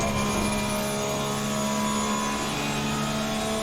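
A Porsche 911 GT3 R race car engine at full throttle at Spa in the racing sim Assetto Corsa Competizione, a steady loud high-revving drone with strong sustained tones and no speech.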